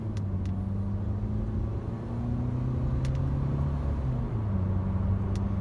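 A Mercedes W204 C180 Kompressor with its 1.6 supercharged engine and five-speed automatic accelerates, giving a steady, close engine drone with rising and shifting tones under continuous road rumble.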